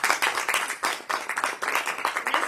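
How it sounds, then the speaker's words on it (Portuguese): A congregation at a church service applauds, loud clapping that comes in rhythmic bursts with brief dips between them, close and continuous for the whole stretch. "Um aplauso"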